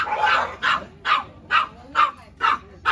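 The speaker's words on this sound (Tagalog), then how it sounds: "Ang ingay ng mga dogs." Several dogs bark at a backyard birthday gathering, giving about seven sharp, evenly spaced barks close by and fairly loud, with no talking over them.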